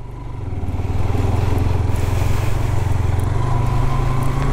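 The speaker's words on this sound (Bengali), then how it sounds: "বাইক তো চরম লেভেলে স্কিড খাচ্ছে ভাই" A motorcycle rides over a rough road on the way from a beach to Kolkata. The engine drones loud and close with a steady, slightly rattling throb that holds for several seconds, without talk.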